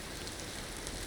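Steady hiss of rain falling on a gun, heard in first-person view during a video game's sub-alpine campaign; a dense, even wash of drops with no talk.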